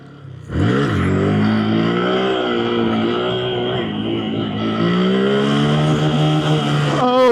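Honda Grom motorcycle engine during handbrake wheelie practice, revving loud and close with a steady high drone that rises and dips in pitch across several seconds, then cuts off abruptly.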